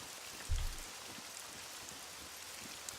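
Steady rain in the survival video game SCUM, a soft continuous hiss with a brief low thump near the start, heard alone without voices.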